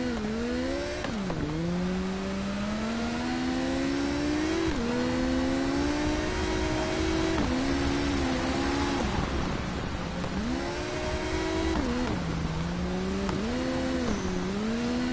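A motorbike engine in the IOM TT video game roars at full speed along a paved public road, revving high and dropping briefly at gear shifts and corners, loud and continuous with no talk.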